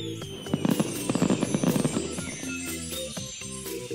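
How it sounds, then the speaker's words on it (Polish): Cartoon fireworks burst in a rapid string of bright crackling pops and bangs over a musical backing, busy and loud throughout. "Fajerwerki!"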